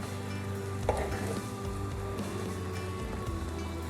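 Banana mustard curry being stirred in a pan over low heat, with a steady soft sizzle and a few scraping stirs, fairly quiet and close with no talking.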